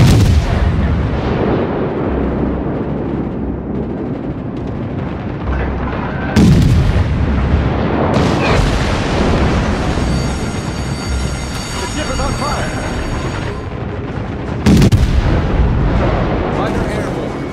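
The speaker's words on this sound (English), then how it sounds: "Anti-aircraft fire support." Anti-aircraft guns fire from the Omaha cruiser in World of Warships, loud booming salvos at intervals over a constant rumbling battle din with metallic clanking.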